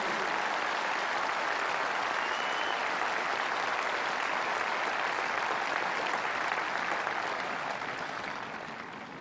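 A large crowd at a memorial for the Christchurch mosque victims gives sustained applause for Yusuf Islam (Cat Stevens), a broad, even roar of clapping that continues for about nine seconds before slowly tapering off.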